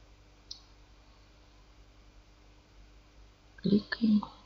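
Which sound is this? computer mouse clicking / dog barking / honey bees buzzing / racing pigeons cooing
computer mouse clicking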